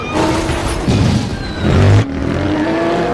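Race cars in a film race roar and rev loudly throughout, engines surging with brief tire squeal, a continuous close barrage of motor noise.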